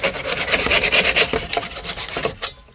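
A hand saw rasps back and forth through PVC pipe held in a miter box and clamped in place, a steady run of close, fairly loud strokes that tails off as the cut finishes, with no talking.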